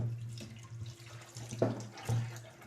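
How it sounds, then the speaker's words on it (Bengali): Amla gooseberries rinsed under a running kitchen tap, giving a steady close stream of water with brief splashy surges as the fruit is turned under the flow. "আমলকিটাকে আমি প্রথমে এইভাবে একটু জলের তলায় ধুয়ে নেব"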